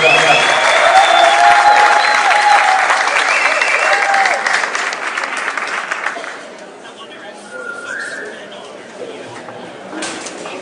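A large crowd applauds as Chief Justice Maraga walks to the stage at a public address, loud sustained clapping that thins out after about six seconds into lighter scattered claps and murmuring.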